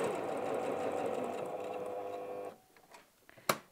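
Sewing machine top stitching through bulky four-layer denim on a wallet, a steady close whirring run that stops abruptly, followed by a couple of small clicks and a sharp tap.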